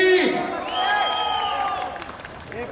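Applause and cheering from an audience at a Marathi film launch event on stage, a loud crowd with whoops and raised voices carrying across, clapping blended underneath the shouting.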